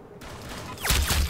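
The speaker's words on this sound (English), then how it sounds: "Oh, this is the trash BB shotgun." BB shotgun firing in the Roblox game Arsenal: two loud, close blasts in quick succession near the end, rising over a steady low game-background hum.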